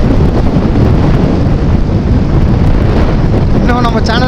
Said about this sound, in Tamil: ஆனால் ஒன்று காற்று தாங்க பயங்கரமாக அடிக்குது.